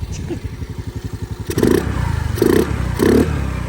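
A 2022 Honda Navi engine idling with a steady chug, then revved three times in loud bursts, recorded close to the intake side.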